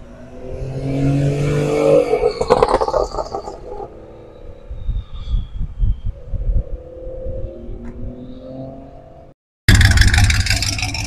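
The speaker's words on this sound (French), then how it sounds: "Nissan Juke Nismo. Il sonne très fort aussi." A Nissan Juke Nismo engine revs loudly several times, rising and falling in bursts, then cuts briefly before a harsh roar returns.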